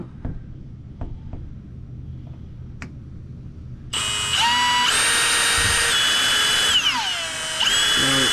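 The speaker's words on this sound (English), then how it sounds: "I'm gonna drill that out and see if there is truly backing in that wall." A loud power drill whines at high speed, drilling into the wall of a Class C motorhome, revving up and down, after a few quiet clicks and taps.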